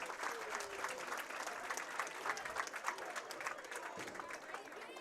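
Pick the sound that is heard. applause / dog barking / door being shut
applause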